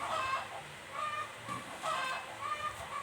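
Chickens from a neighbouring house cluck in short repeated bursts, a few calls spread over several seconds at moderate distance over faint background noise.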